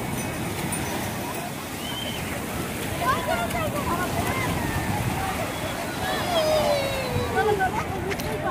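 Sea waves at Puri beach wash and slosh steadily along the shore under a constant wash of wind, with distant voices and faint shouts of people bathing mixed in.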